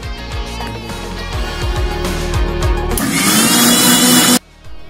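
An electric kitchen mixer grinding garlic, chili and a little water into chutney, a loud continuous whirring motor that surges louder partway through and then cuts off abruptly.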